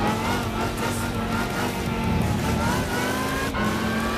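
A 1968 Corvette race car in Gran Turismo 5 holds a steady, loud engine drone, the pitch rising slowly under acceleration, with a brief tire squeal near the end and no talking.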